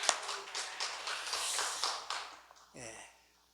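A church congregation at a Wednesday prayer meeting breaks into brief scattered clapping that fades after a couple of seconds, followed by a short spoken voice.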